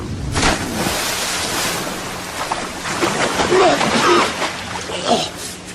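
Sea waves wash and surge in a dense, continuous roar at the base of a towering cliff in a narrow, deep-water inlet, with occasional splashes breaking through the steady surf.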